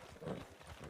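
Breton horse galloping in the video game RedM, quick rhythmic hoofbeats in a brief burst, fairly close and moderately loud.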